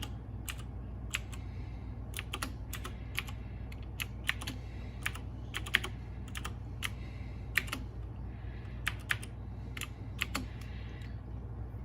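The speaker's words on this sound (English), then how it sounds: "so I do have to type in the password" Password being typed on a computer keyboard, with irregular bursts of fairly close key clicks over a steady low hum.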